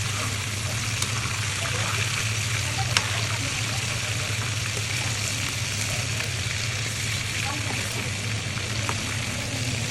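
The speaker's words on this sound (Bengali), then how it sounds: "আমি কড়াইতে তেল দিয়ে তারপরে আমি দিয়ে দিলাম মাংসটা ভাজি করতে" Meat seasoned with turmeric and salt fries in oil in a kadai, a steady close sizzle and hiss holding even for the whole stretch, with a low hum underneath and an occasional faint tick.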